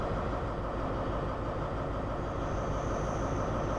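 A BR Class 43 HST in LNER livery on the Riviera Line in the Train Sim game gives a steady, loud rolling rumble with a constant engine drone throughout, unbroken and without voices.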